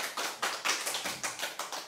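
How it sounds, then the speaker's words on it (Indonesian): A talk show audience claps in an even, quick rhythm of crisp hand slaps, several people clapping together, soft and somewhat distant with no voices over it. "Yeay, mari tepuk tangan."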